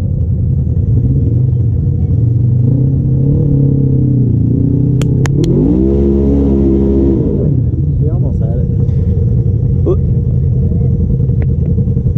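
An off-road vehicle on a hilly trail at Windrock labours and accelerates up a hill, its engine rumbling loud and close with a rising pitch midway, while people shout and talk over it.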